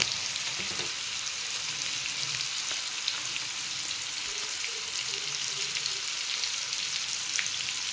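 Fish frying in a pan, a continuous close hiss and crackle of sizzling oil with faint stirring throughout, no voices.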